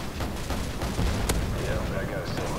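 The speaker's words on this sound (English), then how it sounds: "And here's my AC-130." An AC-130 gunship fires in a Modern Warfare 2 team deathmatch, giving a sharp heavy blast followed by rumbling impacts amid game noise, while someone talks over it.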